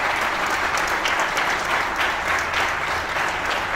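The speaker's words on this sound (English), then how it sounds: "we will have a huge round of applause to thank Honorable Minister" Audience applause thanking a government minister at an official event: continuous, fairly loud clapping from a crowd, even and sustained through the whole stretch.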